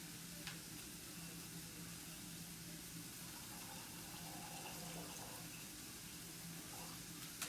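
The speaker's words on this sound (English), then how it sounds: "you're gonna put a little bit more water inside of the pot here" Water runs steadily into a cooking pot for rice, a continuous close splashing pour with faint kitchen clatter and no talking.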